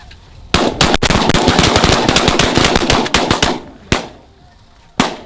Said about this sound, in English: I just shot so much it set me down in my seat